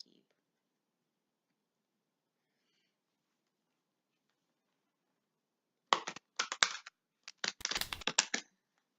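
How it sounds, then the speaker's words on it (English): Oracle cards are shuffled by hand in quick, crisp bursts of flicking and clicking. The shuffling begins after a long near-silence and goes on in close, choppy clusters for a few seconds. "I think that was the longest I have ever felt the need to shuffle."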